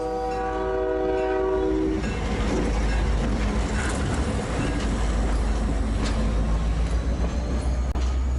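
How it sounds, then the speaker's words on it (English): A horn blast fades as a train thunders past close by, a loud, steady rumble of rolling wagons continuing to the end. "The ground shakes as the train passes the camera."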